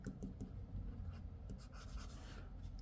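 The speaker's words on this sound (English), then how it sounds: "It really feels like I'm writing on paper." Stylus writing on the screen of a Boox Note Air 3 C e-reader, producing a steady, close, faint scratchy friction with small stroke bursts, continuous throughout with no talking.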